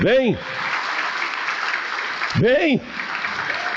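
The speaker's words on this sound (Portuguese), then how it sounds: "vamos aplaudir mais ao nome de Jesus" A church congregation claps together in sustained, even applause during a sermon, with a voice briefly rising in sweeping, echoing calls at the start and again partway through.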